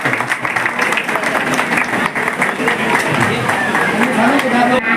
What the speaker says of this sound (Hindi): जोरदार तालियां इस बच्चे के लिए, प्राची के लिए।